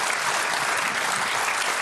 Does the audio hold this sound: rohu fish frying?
no